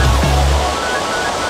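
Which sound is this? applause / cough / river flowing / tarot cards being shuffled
river flowing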